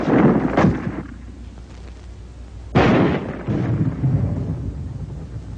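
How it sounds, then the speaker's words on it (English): Armor-piercing rifle ammunition firing and smashing through a wall, heard as two heavy booming impacts with rumbling decay, the second louder, over a dull continuous background. "At ranges up to 200 yards, armor-piercing ammunition can smash through this kind of wall any time, any day."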